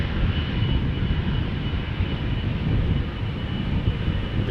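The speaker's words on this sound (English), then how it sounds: "Next up, KLM flight 705 going to Rio de Janeiro." A KLM Boeing 777-200, registration PH-BQN, departing Amsterdam Schiphol, its jet engines a steady broad roar at moderate distance, continuous and without voices.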